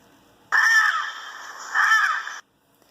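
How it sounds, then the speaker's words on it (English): Blue and yellow macaw in a rainforest giving two loud, harsh squawking calls close by, the first short and the second drawn out, with silence after. "Blue and yellow macaw."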